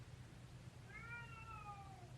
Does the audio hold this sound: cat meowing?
yes